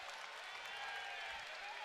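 Basketball crowd in an arena giving sarcastic applause after an offensive foul call, a faint, distant wash of clapping and crowd murmur throughout.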